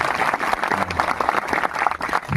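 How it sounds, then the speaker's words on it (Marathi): A crowd at a Harinam Saptah devotional gathering breaks into loud, dense clapping that runs steadily from start to finish with no pause. "सगळ्यांनी एकदा जोरदार टाळ्या मारा."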